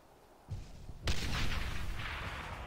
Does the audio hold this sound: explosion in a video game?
yes